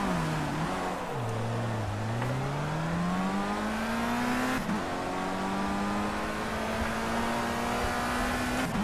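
A Formula race car engine in Project CARS at Catalunya wails continuously and close, its pitch dropping sharply as the car spins out, then climbing steadily again as it revs back up, with no voices.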